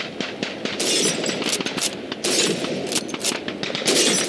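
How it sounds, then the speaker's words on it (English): Rifle shots at a shooting range in Call of Duty 2, a loud irregular string of sharp cracks with glass bottles and plates shattering between them, no voices. "Shoot those bottles and plates."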